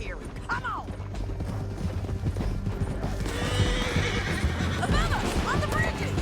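A horse in Red Dead Redemption 2 whinnies sharply twice amid a clatter of hooves and rattling gear, with a busy mix of galloping and commotion building toward the end.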